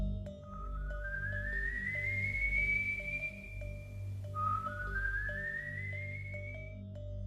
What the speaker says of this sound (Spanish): Por todo el pueblo, sin saber exactamente su ubicación, sonaba un silbido muy característico